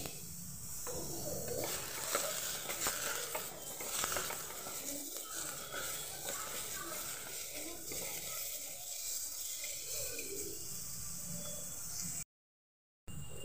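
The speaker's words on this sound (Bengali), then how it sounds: "নাড়াচাড়া করে নেব" A spoon scrapes and stirs eggplant and peas frying in a pan with salt and turmeric, a continuous soft sizzle and gritty scraping heard alone without talk.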